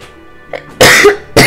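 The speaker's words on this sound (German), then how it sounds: "Ich muss husten." A woman coughs twice, loud and close, two harsh bursts in quick succession after a brief throat sound.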